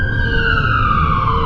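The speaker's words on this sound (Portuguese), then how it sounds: "A tela fica preta e os sons de sirenes podem ser ouvidos no fundo." Emergency sirens wail steadily in the background of an animated analog-horror cartoon, a continuous rising and falling tone heard alone at moderate volume with no talk over it.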